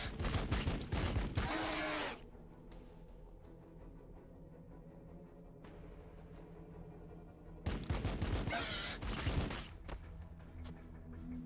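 Gunfire from a Warhammer 40k: Battlesector battle, with two loud dense volleys of rapid shots, each lasting about two seconds and separated by a quieter stretch of low rumbling ambience.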